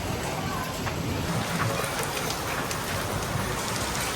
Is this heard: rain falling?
yes